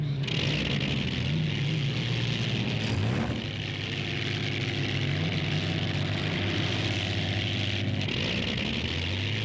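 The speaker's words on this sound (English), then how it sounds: "Other boats thunder out of the pits for their practice and qualifying laps." A continuous, loud engine roar with a rough, droning tone from unlimited hydroplane racing boats running hard during practice and qualifying laps, close and unbroken throughout.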